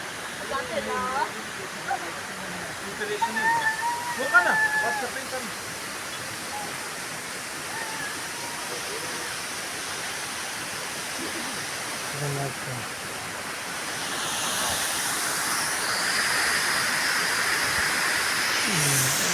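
Steady rushing water of Indrani waterfall, Sonada, pours continuously, a broad even roar, with a few voices briefly audible early on before the water noise swells louder.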